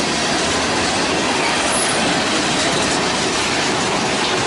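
An EMD diesel locomotive hauls a train past in Birmingham, Alabama. It makes a loud, continuous close rumble of engine and rolling wheels with no pauses.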